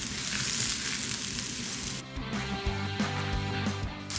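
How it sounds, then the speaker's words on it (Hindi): Mushrooms tossed and sautéed in a pan over a medium-high flame sizzle loudly and steadily, with a few soft knocks from stirring partway through. "मशरूम्स को हमने मीडियम टू हाई फ्लेम में 2 से 3 मिनट इस तरह टॉस करना है"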